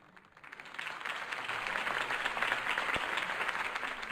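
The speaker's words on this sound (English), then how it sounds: "If only Mr. Wayne, my campaign's largest backer, could have heard that applause" Crowd applause at a campaign speech in Batman: The Telltale Series, a steady, dense clapping that swells in after a quiet start and holds loud to the end.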